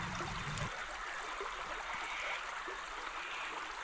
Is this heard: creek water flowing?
yes